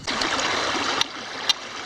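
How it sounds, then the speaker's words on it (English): Creek water rushing steadily over rapids, a close, continuous broadband wash with two brief sharp clicks near the end. "Well, I made it into the creek over here."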